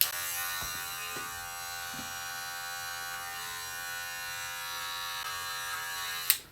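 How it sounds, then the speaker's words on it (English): An electric hair trimmer buzzes steadily and close up for a home haircut, a continuous high whine with faint clicks as it cuts through hair, ending with a brief knock. "now I come back with the trimmer and I'll ball this out"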